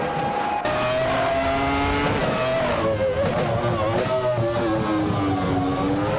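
A Jordan 196 Formula One car in a racing video game, its engine droning loud and close at high revs, the pitch sliding up and down through gear changes with a brief tire squeal, no talk.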